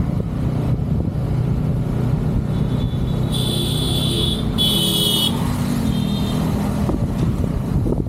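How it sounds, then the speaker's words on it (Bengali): 100cc motorcycles riding through a busy Bangladeshi market, a continuous loud engine drone close by with horn-like tonal bursts in the middle and no talking. "কিভাবে মানুষ মোটরসাইকেল চালাচ্ছে দেখুন।"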